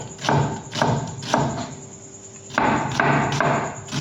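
An onion and green chillies are cut slowly with a knife, and each slice lands as a firm, evenly spaced thud on a board, close and distinct, with a short pause between strokes.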